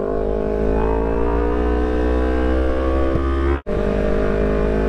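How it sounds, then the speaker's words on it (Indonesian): Motorbike engines rev loudly on a city street, a sustained droning roar with rising harmonic whine, briefly cut off near the end before resuming at full volume. "Iya, pada ngegas baik anak-anak mah"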